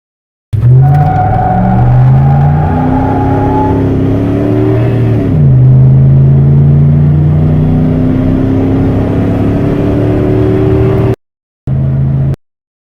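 A 1998 Dodge Dakota with the 5.2-liter V8 accelerating hard, engine pitch climbing steadily through the gears with a brief drop at a shift, loud and close, no talk, cutting out near the end.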